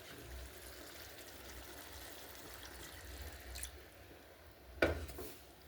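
Hot water poured into a pot of chicken and potato curry being braised in a village kitchen, a soft steady trickle and low bubbling with a sharper splash near the end.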